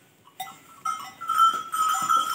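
Sheep in a pen on a farm, with a newly born lamb nearby, give a few short, moderately close bleats in quick succession, with no talk over them.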